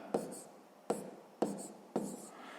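A fraction is handwritten during a sixth-grade maths exercise: four short, scratchy writing strokes come in quick succession, close and clear, with no voices.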